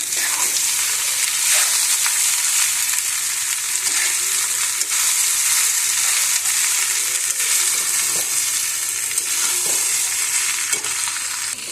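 Fried rice with coriander is stir-fried in a pan, a loud, bright sizzle running throughout with occasional spatula knocks and scrapes up close, and no one talking.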